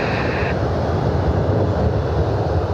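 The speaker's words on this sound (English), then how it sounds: "And a Velo is lining up for departure." An Avelo airliner lining up for departure at Cleveland Hopkins airport, a steady, loud jet engine rumble heard from nearby with some wind buffeting.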